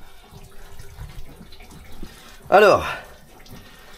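Water gushes briefly into a container near a tractor during engine repair work, a short loud splashing burst amid quieter workshop sounds; someone speaks briefly.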